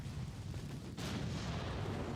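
A torpedo strikes the German warship Friedrich der Grosse in the naval game Ultimate Admiral: Dreadnoughts, a broad rumbling burst that swells suddenly midway over continuous low battle noise.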